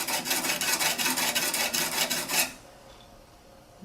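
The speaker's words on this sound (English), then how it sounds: "the back edge and the front edge of that skew with my diamond hone" A skew chisel is rubbed on a diamond hone in quick, steady back-and-forth rasping strokes, close and clear, about a dozen passes before it stops into quiet.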